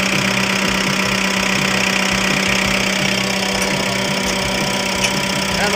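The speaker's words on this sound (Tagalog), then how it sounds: "maganda naman ang takbo ng ano. Yung ating pison." A road roller's engine runs steadily after a loss-of-connection fault was fixed, a loud, close, rough idle with a constant low throb and no pauses.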